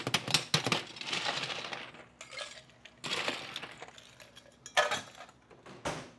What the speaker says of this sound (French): On va mettre de la glace.